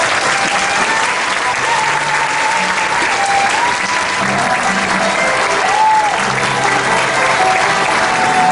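A standing audience at a university talk concert gives steady, sustained applause as Indonesian President Joko Widodo and guests enter, a dense wash of clapping that holds evenly throughout with a faint tone lingering beneath.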